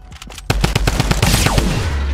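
A drum gun fires in a Fortnite Battle Royale match, a loud close burst of rapid automatic shots in quick succession, continuing for most of two seconds with a dense rattling roar after a brief quieter start.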